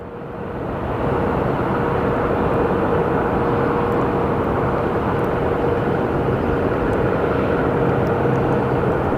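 A Pilatus PC-12 turboprop airplane takes off at Phoenix Sky Harbor Airport, its engine roar swelling within the first second into a loud, steady drone that holds for the rest of the clip.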